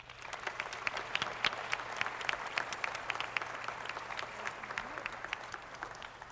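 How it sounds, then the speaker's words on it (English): An audience at a panel session gives its guests a round of applause, a dense, continuous patter of many hands heard at a moderate distance, fairly faint and unbroken throughout. "let's give one more round of applause to our guests"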